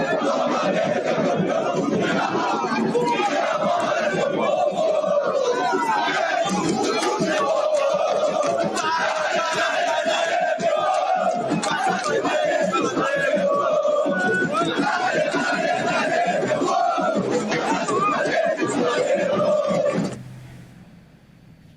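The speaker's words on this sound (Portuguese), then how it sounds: "os torcedores fizeram uma motociata e cantaram nos arredores do aeroporto" Flamengo supporters chant and cheer in a loud, dense crowd outside an airport during a motorcade celebration, voices rising in rhythmic waves for about twenty seconds before cutting off abruptly.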